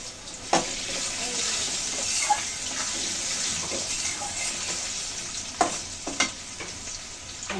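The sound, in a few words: potatoes with turmeric frying in a pan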